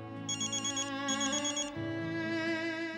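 A telephone rings with a bright electronic tone, repeating in quick pulses, fairly close and steady with no one talking.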